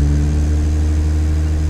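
A GMC 351ci V6 in the Automation game idles at a loud, steady drone with strong low harmonics, unbroken for under two seconds with no talking.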